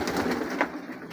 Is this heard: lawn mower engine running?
no